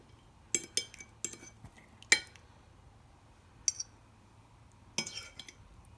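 A serving spoon clinks against a plate as a piece of chilli chicken with onion and capsicum is taken. Several sharp metallic clinks and taps come in irregular clusters over a quiet background.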